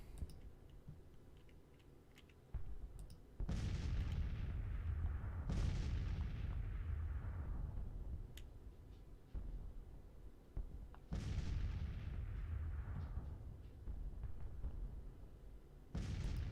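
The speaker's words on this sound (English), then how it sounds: "And it's just an artillery duel now." Artillery duel in the video game Grand Tactician: deep booming cannon blasts land every few seconds and roll off in long decaying rumbles over a dense battlefield din, with no voices.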